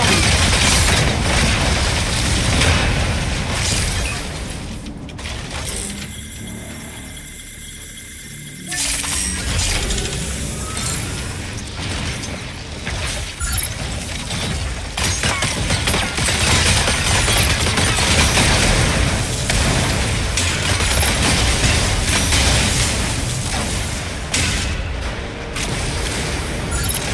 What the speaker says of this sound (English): Explosion in the elevator's midst.